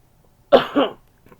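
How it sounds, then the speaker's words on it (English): A single close cough, sharp and brief, in an otherwise quiet room. "Cough in your elbow."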